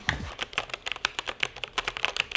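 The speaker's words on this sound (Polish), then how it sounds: "jeżeli zaczniemy sobie na tej klawiaturze pisać" Keys clatter in quick irregular bursts on a SteelSeries Apex keyboard fitted with OmniPoint switches, a close, soft run of light clicks with no voices.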